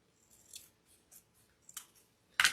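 Scissors snipping slippery ribbon while making a Hallelujah angel wreath, a few soft crisp cuts followed by one louder, sharper snip at the end, close and quiet with no voices.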